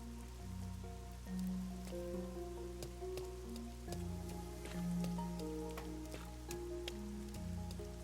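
Steady rain falls over a city in the video game Raincode, a continuous patter with scattered drips that holds through the whole stretch beneath sustained tonal game music.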